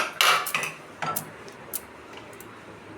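Mysore pak being spread and tapped into a tray, giving a few sharp metallic clinks and scrapes close by, clustered early and then sparser light taps.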